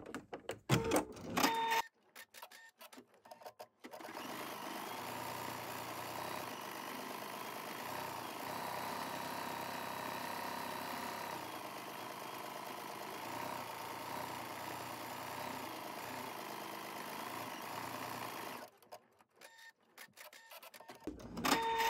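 An embroidery machine stitches out a design, a steady mechanical whirring drone with fast needle chatter that runs for most of the stretch, starting and stopping with short bursts of clatter at either end.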